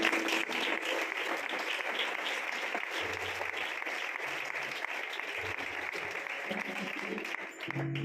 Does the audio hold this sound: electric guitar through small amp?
no